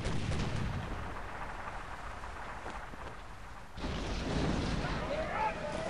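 A sailing ship's cannons fire chain shot in the Sid Meier's Pirates game: heavy booming volleys, then a sharp fresh blast midway followed by rumbling, with a voice talking underneath.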